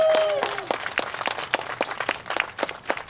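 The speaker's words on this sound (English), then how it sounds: "Give yourselves a big round of applause." Scattered clapping from a modest audience, a brief tonal sound at the start, then uneven claps that thin out toward the end.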